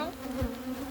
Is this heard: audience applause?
no